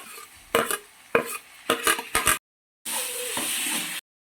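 Tomatoes with ginger, garlic and green chilli sauté in a pan for egg curry, sharp bursts of sizzling and stirring scrapes, then a short gap and a final steady sizzle, no talk.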